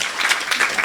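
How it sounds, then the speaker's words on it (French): A brief burst of audience applause in a comedy club, dense clapping at moderate loudness that rises and falls over less than a second, with no clear speech over it. "OK, 1 an, on peut l'applaudir."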